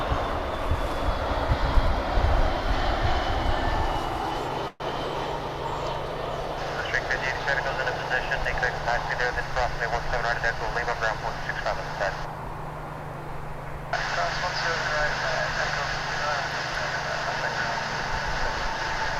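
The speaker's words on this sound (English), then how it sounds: "Here's another UPS flight coming in. This one's from Palm Beach, another A300." A UPS Airbus A300 airliner inbound from Palm Beach approaches to land at DFW, a broad steady jet roar with whining tones shifting partway through, heard from the ground.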